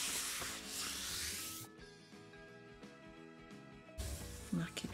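Paper card sheet being creased along a fold for a birthday card, rubbing and scraping strokes up close, with a soft tonal background in between passes.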